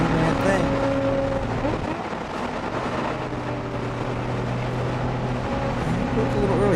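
Race car engine at full throttle during a March 2008 race, a loud sustained drone with steady tonal harmonics from the onboard car, continuing under a commentator's voice throughout.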